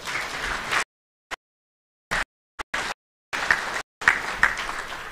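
Clapping from a business forum audience on Tanzania's state visit comes in short broken bursts, loud and near, cut by long stretches of total silence.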